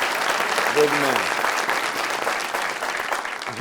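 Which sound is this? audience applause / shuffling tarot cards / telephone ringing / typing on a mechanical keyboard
audience applause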